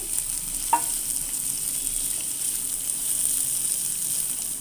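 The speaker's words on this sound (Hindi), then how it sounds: "प्याज को हल्का सा सौते करूंगी" A medium chopped onion sautés with garlic in a pan, giving an even, soft frying hiss throughout and one brief utensil click near the start.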